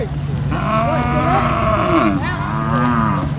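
Cattle moo loudly and repeatedly in long, drawn-out calls at a cattle and buffalo livestock market in Sikhoraphum, Surin, Thailand, over a steady crowd murmur and low hum.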